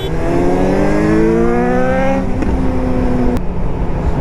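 A Suzuki GSX-S 750 motorcycle pulls away hard in third gear, its engine note climbing steadily in a loud, close rising whine, then dropping briefly at a shift before rising again.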